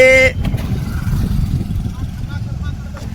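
A vehicle arrives nearby, its engine a low rumbling drone that swells and then eases over a few seconds, loud and close after a brief tone at the start.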